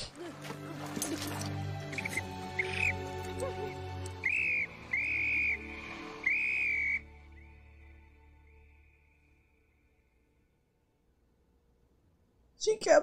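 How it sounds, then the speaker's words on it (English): A life jacket whistle is blown in the sea after the Titanic sinks in the 1997 film: three shrill, sustained blasts, the last the longest, over a low murmur of background sound, followed by quiet and a sudden loud burst at the end. "Life jackets usually have whistles on them."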